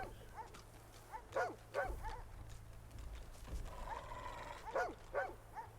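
Hounds bark in Divinity: Original Sin II, several sharp barks in short bursts near and far, rather faint over a low game ambience, with no talking.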